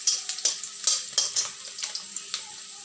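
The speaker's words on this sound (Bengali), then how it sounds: "পেঁয়াজটা ভাজা হয়ে গেছে" Onions frying in a pan with oil, sizzling steadily while a utensil scrapes and stirs them in repeated short strokes, close and fairly loud.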